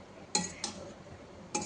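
Ingredients being mixed in a pan while cooking, a few sharp clinks of a utensil against the vessel, quiet and close, with no talk.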